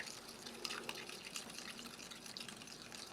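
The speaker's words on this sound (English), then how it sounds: "so it does need quite a bit of stirring in the cold" A spoon stirs a granular powder mix into cold water, giving faint, irregular clinks and soft liquid swishes close by, with no talking.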